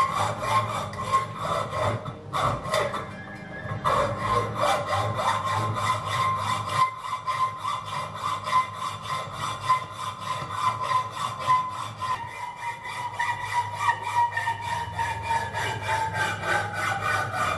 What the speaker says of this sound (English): Let's use that hacksaw and cut that off of there.